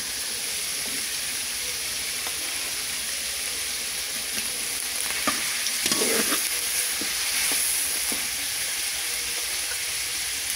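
Meat frying in a pan with ginger, garlic and cumin paste for Afghan Kabuli pulao, a steady close sizzle with bursts of stirring and scraping around the middle.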